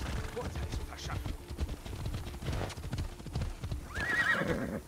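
Horses gallop with steady, rapid hoof clip-clop throughout, joined near the end by a loud whinny, in the video game Assassin's Creed Odyssey; voices talk faintly underneath.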